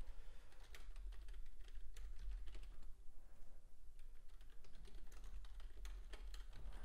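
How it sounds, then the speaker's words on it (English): Rapid clicking of keys on a computer keyboard, close and steady with short pauses, no talking. "if you do hear typing, that's just me making alerts to the private community"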